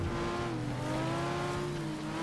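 A slightly overpowered race car's engine drones in the FlatOut video game during a figure-eight race, a steady close engine tone with a faint wavering pitch, alone without talk.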